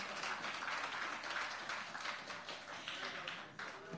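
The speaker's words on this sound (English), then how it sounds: "Give them a round of applause" Applause from the audience at a technology programme launch ceremony, a steady, fairly distant patter of many hands clapping that carries through the whole stretch with little variation.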